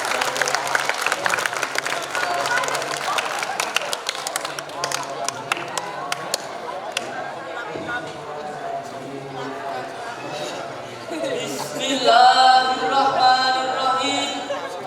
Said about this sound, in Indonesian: Mari kita beri tepuk tangannya.